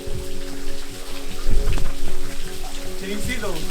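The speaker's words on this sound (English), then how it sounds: "It's like dripping down, but it's dripping from everywhere." Water dripping from everywhere inside a hillside cave alcove near a spring, a dense rain-like patter of many drops close by, with voices talking over it.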